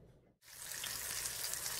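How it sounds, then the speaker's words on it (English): After a brief hush, hot oil bursts into a loud, steady sizzle of potato tacos frying up close, crackling evenly with no voices. "Hot oil, and I'm frying up my tacos until they're nice and crispy on both sides."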